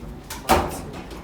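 Door of a vintage Haughton hydraulic elevator in a building at 15 N. Main, Greensburg, PA, opening with a single sliding rumble and a brief thud, close and fairly loud.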